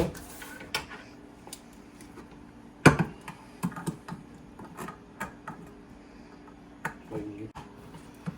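A can of soup opened with a can opener in a home kitchen while green bean casserole is prepared: sparse dry clicks and ticks, then one sharper metallic clack near the middle, with quiet gaps between.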